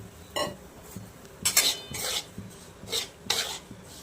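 Semolina (rava) being roasted and stirred in a pan, with repeated scraping strokes and light metallic clinks of the spoon against the pan at an irregular pace.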